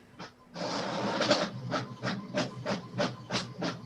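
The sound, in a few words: room sound effect resembling an old dot matrix printer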